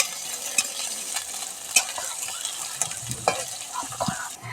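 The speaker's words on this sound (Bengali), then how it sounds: "এবার পেঁয়াজ, এবার ভালো মতো লাল লাল করে ভেজে নেব।" Onions frying with chilli in oil in a pan: a close, steady sizzle with intermittent stirring scrapes and small crackles. No talking is heard.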